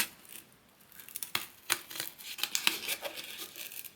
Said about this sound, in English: my scissors are gonna cut this nicely